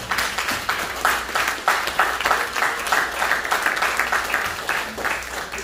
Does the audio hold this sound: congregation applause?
yes